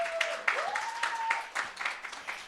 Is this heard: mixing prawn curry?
no